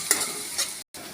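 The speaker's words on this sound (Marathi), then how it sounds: "ह्याच्यामध्ये कांदा घालून घेत आहे फोडणी तुम्ही तुमच्या आवडीनुसार द्या आणि चांगला फ्राय करून घ्यायचा आहे" Onion and curry leaves frying in hot oil in a kadhai while being stirred, a steady close sizzle with a couple of scraping stirs, then a brief dropout before the sizzling resumes.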